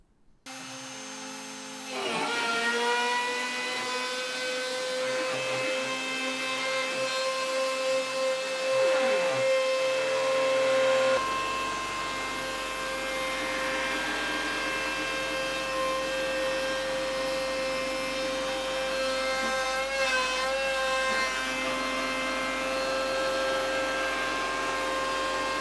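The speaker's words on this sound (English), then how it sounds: "I'll go full speed with my CNC, which is 2000 millimeters per minute on Mach 3" A CNC router running a 10mm roughing bit through a guitar neck at 2000 mm per minute with 2mm depth of cut, a loud steady whine with layered tonal harmonics and a shift in pitch midway, sustained throughout.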